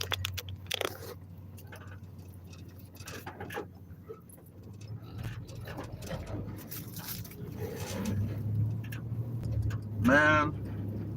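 A car drives through the countryside with a steady low engine and road rumble inside the cabin, while someone talks over it and small rattles and clicks come and go.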